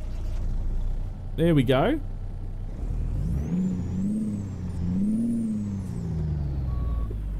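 A Peterbilt 377 truck engine in American Truck Simulator cranks over and catches with a low rumbling idle that swells and settles, a rising whine sitting above it. A brief voice is heard under the engine.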